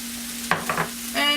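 Mushrooms and garlic drop into a hot pan with softened onions, giving brief scraping stirs and then a rising burst of sizzle, close and clear with no talk.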